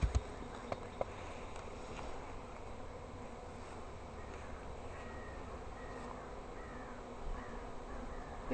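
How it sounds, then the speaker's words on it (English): A honey bee swarm hums faintly and continuously in the background, with occasional louder passes of individual bees close by. "Here's Al capturing a swarm."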